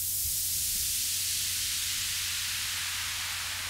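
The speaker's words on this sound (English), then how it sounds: "It's always like a bit of white noise in the background." Dense white noise in a music remix, a loud, steady broadband hiss that brightens and thins slightly over a few seconds, with low tones beneath and no voices.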